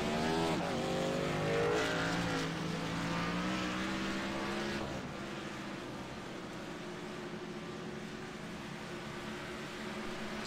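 A NASCAR race car engine drones loudly and steadily in iRacing at Chicagoland Speedway, its pitch rising then dropping as the car runs laps, with a continuous whine and no speech.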